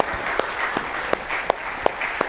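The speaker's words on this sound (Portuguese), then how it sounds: "Toma o seu lugar aplaudindo ao Senhor." A church congregation applauds steadily during a worship service, a dense, even wash of clapping with a few sharper individual claps standing out at regular intervals.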